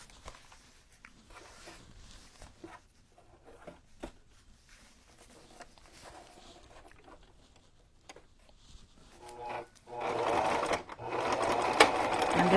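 A sewing machine stitches a vintage Christmas junk journal cover, beginning with a back stitch. After quiet handling and faint rustling, its steady, close, rapid mechanical whir starts near the end.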